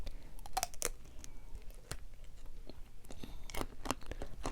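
Close, crisp crunching and biting into candied strawberry and grape tanghulu with a hard sugar shell, sharp cracks landing irregularly over a few seconds with no talk.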